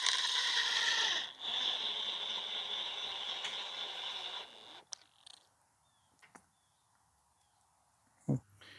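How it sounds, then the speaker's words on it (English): Impact wrench with a 3/4 inch socket driving a lag bolt on a wooden fence post, a loud sustained rattling run of about four seconds followed by a few faint clicks and knocks. "now we got an impact wrench with a 3/4 inch socket. We're just going to run that till it barely comes out"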